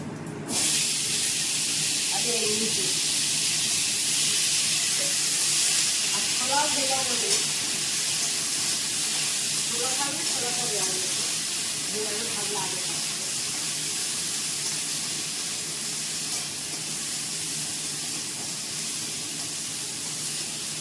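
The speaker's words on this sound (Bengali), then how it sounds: "আগে ফোড়ন দিয়ে দিলাম" Whole spices for a pumpkin and potato curry sizzle steadily in hot oil, a continuous bright hiss running the whole time, with a voice speaking briefly several times over it.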